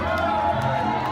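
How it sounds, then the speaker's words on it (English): Spectators and cast members cheering along Main Street during the runDisney 10K at Disneyland Paris, a continuous crowd roar with scattered whoops and shouts at moderate distance. "Spectators, cast members, all cheering."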